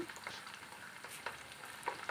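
Steady crackling sizzle of spices, curry leaves and dried red chillies frying in hot oil for tempering, with scattered pops and sputters, close and continuous.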